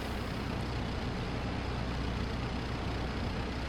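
A propeller aircraft engine in a flight simulator drones steadily and loudly during a flaps-out descent toward a short runway, a constant broadband roar with no pauses.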